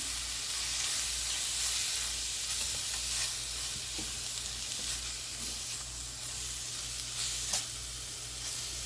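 Flowers stirred in hot oil with turmeric, a steady soft sizzle with faint scraping stirs underneath, no talking.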